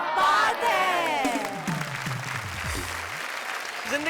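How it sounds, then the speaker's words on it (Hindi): Loud applause and cheering from an audience at a Hindi poetry show, a dense wash of clapping with whoops and laughter that trails off as some voices and a falling tone come through over the crowd. "भाई यहाँ तालियां हैं, ठहाके हैं और खुशियों की बरसात है"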